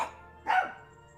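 A single short dog bark from the video game Aviary Attorney, clear and fairly close, standing alone over a faint steady background tone.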